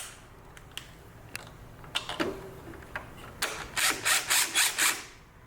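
Ratchet tightening bolts on a clamp during a fuel system repair, scattered sharp clicks and knocks first, then a fast run of close, loud ratcheting bursts in quick rhythm.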